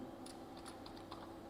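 A computer keyboard typing a javac compile command: a quick run of light key clicks over a steady low room hum, faint and close, with no talk.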